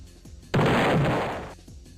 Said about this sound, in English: Roblox or the Game Maker explosion sound.